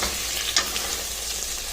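Stuffed brinjals fry in masala with a dense, steady sizzle as a spoon stirs them, close and fairly loud, with one sharper scrape early on.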